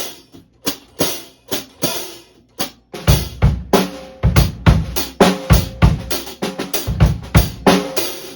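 A dull, muted hi-hat fitted with pod shakers is struck in a steady rhythm, each hit short and choked with a faint rattling shake, recorded close with no talking.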